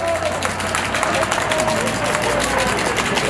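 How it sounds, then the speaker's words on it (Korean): A crowd at a Korean public rally gives sustained applause: a steady wash of many hands clapping, with crowd murmur mixed in, loud and continuous for several seconds. "뜨거운 박수 부탁드립니다"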